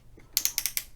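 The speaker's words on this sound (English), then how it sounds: "let me sew this closed" A sewing machine stitches a fabric bag closed, giving a short run of quick, crisp mechanical clicks and ratcheting ticks, fairly close and alone with no talking.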